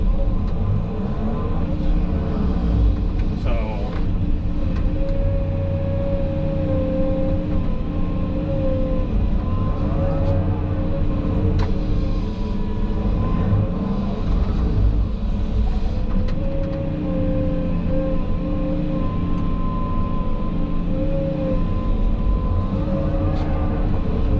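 A 210 excavator digging out an old pond gives a steady diesel drone with a tonal engine hum that rises and falls as hydraulics load and ease, alongside faint clanks and scrapes of digging, close and continuous with no talking.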